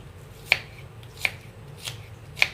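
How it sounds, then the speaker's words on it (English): A knife cutting an onion on a board in a camping kitchen kit, four crisp, evenly spaced chops close by, each a sharp tap over a quiet background. "cuts the onion very easy"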